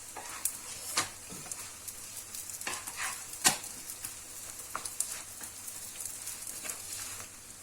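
Msemen flatbread frying in a hot pan, a soft steady sizzle with a few sharper crackles and pops as it is turned, close and without talk.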